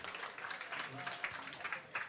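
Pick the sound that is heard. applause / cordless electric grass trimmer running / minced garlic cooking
applause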